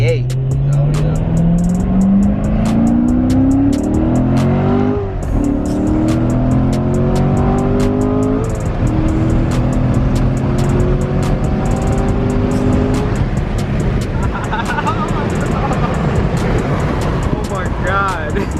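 A Chevrolet Corvette C7 V8 roars continuously through donuts and burnouts, its engine rising and falling in loud revving sweeps with tire noise, close and sustained, while people talk excitedly over it.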